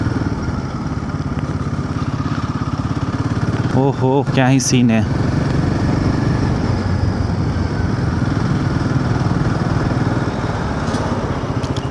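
A motorcycle rides along curving mountain roads in Uttarakhand, its steady engine drone and wind rush continuous throughout, with someone briefly speaking over it.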